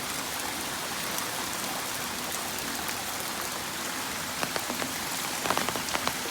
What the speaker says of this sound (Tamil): இந்த மழை இது வரைக்கும் நிற்கிற மாதிரி தெரியல, பெஞ்சிகிட்டே தான் இருக்குது